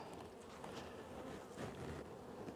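Honeybees buzz softly around an opened hive during a spring inspection, a steady, faint drone of many insects with no voices.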